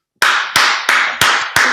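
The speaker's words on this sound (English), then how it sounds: "let's give 5 claps to Aiden." Children clap five times in an even, deliberate rhythm, each clap loud, crisp and close, with a brief silence before the first.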